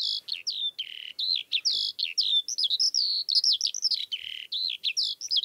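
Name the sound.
nightjar song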